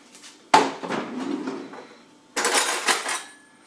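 Poppy seeds poured from a measuring cup into a bowl of buttermilk, two close clattering pours with a sharp start, each trailing off into soft rattling.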